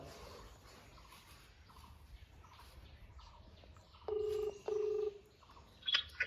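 Two sustained telephone keypad dialing tones, each about half a second, sound in quick succession before a ringing call connects for a prank phone call, heard alone over faint background hiss.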